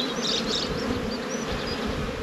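Honey bees buzz steadily at an open beehive during a spring nuc-making inspection, a dense, continuous close-up hum from many insects with no talk over it.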